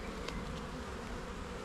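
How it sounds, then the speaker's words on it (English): Honey bees buzz steadily as they are shaken off a frame during a hive inspection, a dense close swarm hum that continues evenly throughout with no speech. "You can see them really easily if I shake the bees off."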